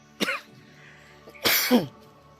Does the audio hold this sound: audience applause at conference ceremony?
no